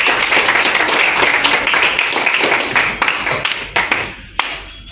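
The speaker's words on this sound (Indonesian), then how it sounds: "sekarang kita beri tepuk tangan untuk semuanya" A classroom of students claps together, a brisk crowded patter of hands that holds steady before thinning into scattered, separate claps and a last sharp slap as it dies away.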